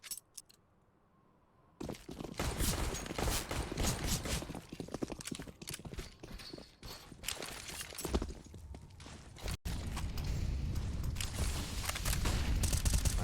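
Counter-Strike gunfire on the Nuke map rattles in dense rapid bursts after a quiet opening, loud and continuous, with overlapping shots and a brief cut before the firing resumes.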